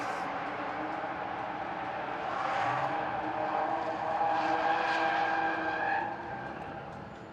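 A new Toyota Supra A90 drift car runs during an FIA Intercontinental Drifting Cup qualifying session in Riga, its engine and tire noise heard from a distance as a sustained roar that swells midway and then fades.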